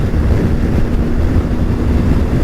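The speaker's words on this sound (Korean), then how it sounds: "헬멧 안에 바람 소리가 약간 다른 바람 소리죠" Loud, buffeting wind roars continuously inside a helmet on a BMW R1250GSA motorcycle with its windshield at the lowest position, a dense low rumble with no voices.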